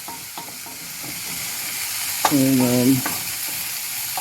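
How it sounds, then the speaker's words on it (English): Oxtails sautéing and caramelizing in a pan give a constant close sizzle with stirring scrapes, while a brief tonal clatter or squeak rings out midway; a single short word is spoken. "as you can see, it's simmering, it's sauteing down real good"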